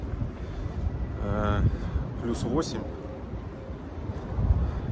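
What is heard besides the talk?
wind blowing outdoors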